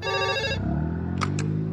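A telephone rings in a comedy film scene, a short burst of electronic ringing tones followed by two brief bright chirps over a steady low background hum, with no voices.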